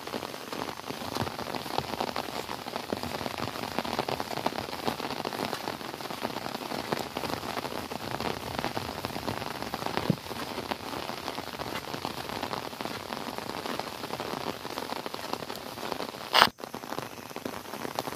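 Steady light rain patters on surfaces at a village corn farm, a dense, even hiss of drops with one brief sharp knock near the end.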